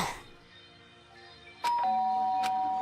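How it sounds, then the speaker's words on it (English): A doorbell chimes in the video game Danganronpa 2, a clear two-note ding-dong starting partway through after quiet background music, with a sustained tone ringing on afterward. "The doorbell? Is someone here?"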